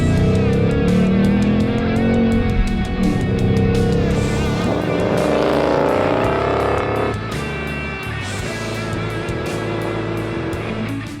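A 2019 Ford Mustang Bullitt with a six-speed manual is driven hard, its engine note loud and close, rising and falling in pitch through a continuous, rumbling run with no talk.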